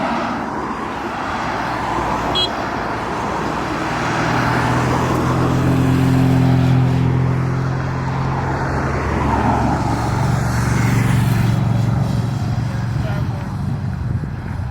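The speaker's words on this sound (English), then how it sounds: "There's a ton of cars coming." Cars pass one after another on a road along the West Highland Way, a continuous near rumble that swells and fades with each vehicle while voices speak over it.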